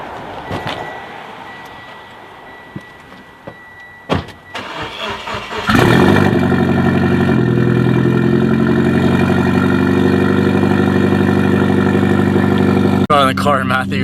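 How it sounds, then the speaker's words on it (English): A Mitsubishi Evo cold-starts with a sharp crank and catch, then settles into a loud, steady, high idle that holds close to the microphone, after a few clicks and handling noises beforehand. "Get a quick cold start for you."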